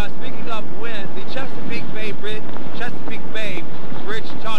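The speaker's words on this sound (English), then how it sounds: "We're still getting some of the strong winds" Strong wind from Hurricane Dorian buffets the microphone in a loud, continuous roar beneath a reporter talking over it near the coast.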